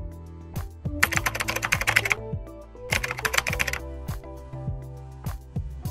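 Typing on a keyboard, two quick bursts of rapid close key clicks separated by pauses, with a few isolated single taps before and after.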